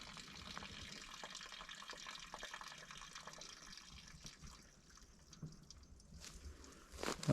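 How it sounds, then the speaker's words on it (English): Water trickles and splashes steadily as it drains off a camper at a campsite, a low gurgling flow with a few sharper drips and a louder splash near the end. "That's the water draining off."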